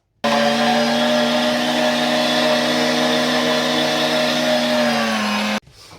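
A food processor chops onions for Adana kebab meat, its motor running as a loud, steady, whirring drone for about five seconds before cutting off abruptly.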